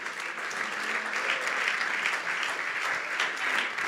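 Loud congregational applause in a church sermon service, a thick continuous clatter of many hands clapping for around four seconds, with no talk over it.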